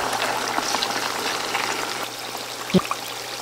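Food sizzles steadily in hot cooking oil, a dense bubbling hiss that holds for the whole stretch at moderate level, with a short sharp pop near the end.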